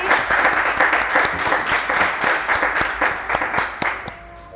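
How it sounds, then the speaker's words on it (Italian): Applause from a small group at a sandwich competition announcement, distinct individual claps in an irregular rhythm, fairly close and steady before thinning out at the end. "Facciamo comunque un applauso anche se siamo in pochi."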